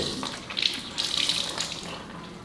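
Tap water runs into a sink as a face is rinsed after shaving, a close, splashing flow with uneven bursts as hands scoop and splash, without any talking.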